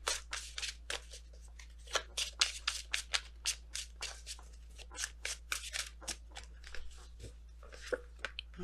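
Tarot cards are shuffled close by in quick papery riffles and flicks, an irregular run of crisp bursts against a quiet room.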